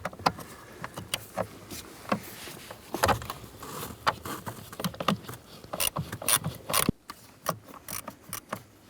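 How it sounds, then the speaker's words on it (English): A ratchet with a deep socket turns out a blower motor screw on a 2006-2013 Chevrolet Impala, giving a close, quiet series of irregular clicks and mechanical ticking with no talking. "For the back screw, we're going to switch over to a deep socket."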